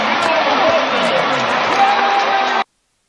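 A stadium crowd roars at a college football game just after an 83-yard touchdown pass, a dense, loud wash of cheering and yelling that holds steady then cuts off abruptly.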